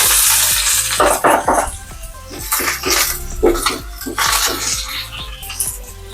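Chayote side dish frying in a pan, stirred with a spoon, giving a loud steady sizzle with repeated scraping strokes close up.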